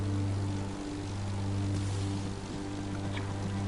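Steady propeller-plane engine drone from The Crew Motorfest racing game, a loud continuous hum with even low harmonics running unbroken through the whole stretch.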